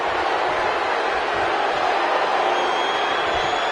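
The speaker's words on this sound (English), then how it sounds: "I don't remember the last time I heard a more passionate crowd than the one we have here tonight" An arena crowd in the WWE 2K19 wrestling game roars in a dense, continuous wall of cheering that stays loud and unbroken throughout, with no clear voices standing out.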